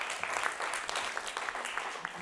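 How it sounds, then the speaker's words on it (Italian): A small audience at a classroom discussion on environmental pollution breaks into a short burst of applause, the clapping fairly faint and room-sounding, lasting about two seconds. "Quindi bravo, un applauso."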